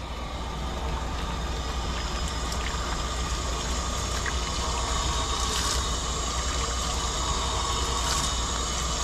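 Water pours steadily over a Bouvier's thick coat during a grooming rinse, a continuous broadband splashing rush that stays close and even throughout, with no talking.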